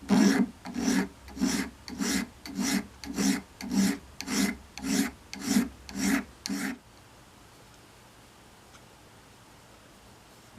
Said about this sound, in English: I'm going to hit these spots in here with a file first before I start sanding.